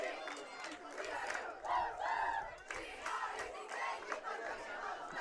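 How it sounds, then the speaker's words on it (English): High school homecoming football crowd at Hinckley-Finlayson against Aitkin, a steady roar of many voices yelling and cheering, swelling in waves, heard from a distance across the stadium. "Crowd getting excited here for homecoming."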